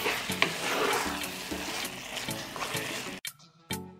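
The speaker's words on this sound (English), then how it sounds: "I will mix all this and continue to fry for another 10 minutes." Peppers fry in a pan with garlic, parsley and vinegar, giving a steady close sizzle with stirring scrapes and clinks that stop abruptly near the end, leaving a few brief knocks.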